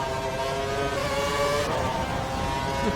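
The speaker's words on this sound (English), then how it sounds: "The Cosworth engines." Cosworth-engined Formula 1 cars racing in F1 2012 at the Canadian Grand Prix, a steady high engine whine with a rising tonal pitch, then a brief shift as the engine note changes, continuous and fairly loud.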